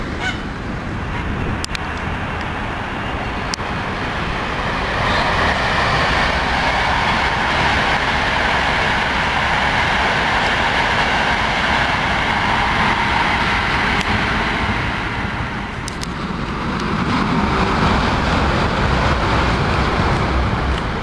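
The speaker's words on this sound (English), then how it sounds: "we're waiting for another couple of trains now" A train rumbles past at close range for a long stretch, a loud sustained roar of wheels and cars that eases briefly and then swells again, with occasional sharp clicks and no talking.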